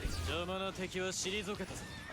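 A horse neighs and whinnies in the video game Samurai Warriors 5, a loud, wavering cry lasting about two seconds, with talking mixed in.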